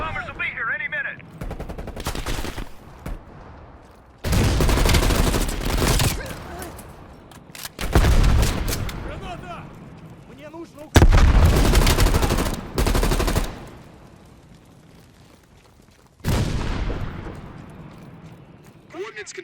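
Machine gun fire in Call of Duty Black Ops Cold War, heavy sustained bursts that start and stop abruptly several times, loud and near, mixed with voices and battlefield noise.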